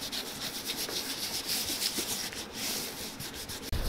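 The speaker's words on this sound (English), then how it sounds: "I'm gonna rub the brown into the leather, trying to watch out for the white stitches" Brown leather cream is rubbed by hand into restored Thorogood leather boots with a cloth, making a steady, close, scratchy swishing of repeated strokes. It continues for several seconds without talking and ends in a brief knock.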